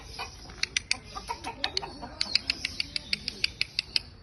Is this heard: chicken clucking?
yes